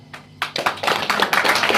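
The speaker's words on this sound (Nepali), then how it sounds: "ताली बजाउनु पर्छ" Guests at a church wedding clap their hands at close range, starting with a few separate claps that quickly build into dense, steady applause.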